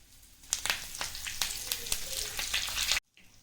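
Cumin, chana dal, dry red chillies and curry leaves fry in hot oil in a pan with a close, crackling sizzle. Sharp spits and stirring scrapes repeat throughout, then the sound cuts off abruptly.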